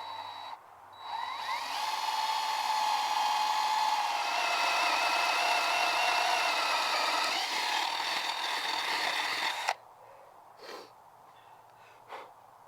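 A paddle bit bores a hole through wood with a power drill while a simple fence stretcher is being built. It gives a steady, loud whirring grind for about nine seconds, then stops abruptly, leaving a few faint knocks.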